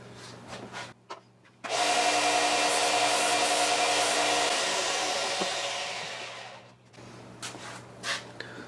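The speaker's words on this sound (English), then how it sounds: "I'm going to put this on the belt sander just a hair" A belt sander grinds down a ridge on a rifle recoil pad held in a Miles Gilbert jig, a loud steady rasping roar lasting about five seconds, with quieter handling noises before and after.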